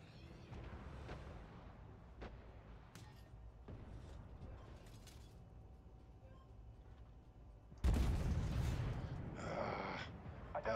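A tank cannon fires in the video game Armored Warfare from a Scorpio Altay tank, one sudden loud boom with a rumbling tail that fades over a few seconds, following quieter mechanical clanks and engine hum.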